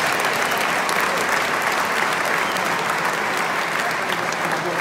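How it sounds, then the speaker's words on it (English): Loud, dense applause from a live audience at an electric car show fills the whole stretch as a continuous wash of clapping, with no voices rising above it. "a big round of applause for my energy"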